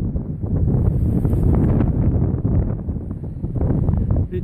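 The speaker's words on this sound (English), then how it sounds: "Bit windy." Strong gusts of wind buffet the microphone on an exposed Appalachian Trail mountain top, a loud, continuous rumbling roar that swells and eases without letup.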